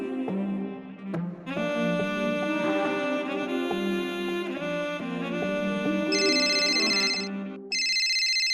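An incoming video call rings on a phone as a melodic electronic ringtone, loud and close, looping its tune for several seconds before a brighter chiming section and an abrupt stop.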